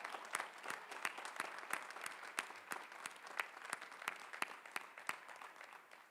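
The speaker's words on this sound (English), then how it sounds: "Let's give them a big round of applause." Scattered applause rises at a university commencement ceremony, a faint, distant crowd with individual claps standing out sharply in an irregular patter throughout.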